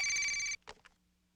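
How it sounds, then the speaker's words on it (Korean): A telephone rings with a loud, steady electronic trill for about half a second, then cuts off, followed by a couple of soft handling clicks as it is picked up. "전화 받습니다"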